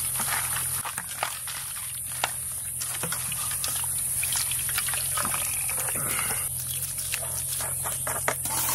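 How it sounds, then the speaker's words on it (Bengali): Water runs steadily from a tap while fish are washed for a curry, with intermittent splashing, clunks and handling sounds close by over a constant background hum. "সুন্দর করে ধুয়ে নাও।"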